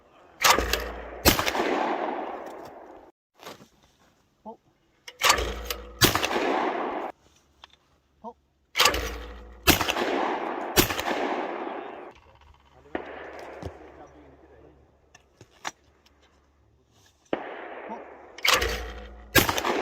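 A Baikal IJ12 shotgun fires at clay targets on an outdoor range, with sharp, loud blasts in spaced pairs and singles, each trailing off into a rolling echo. A voice talks between some shots.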